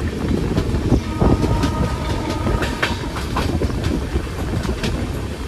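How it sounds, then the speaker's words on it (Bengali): A train rolls along the rails on the way to Yog Nagar Rishikesh, a loud, close rumble with rhythmic clickety-clack of the wheels and a faint squeal, with no voices. "এখনো নামিনি, ট্রেনে আছি"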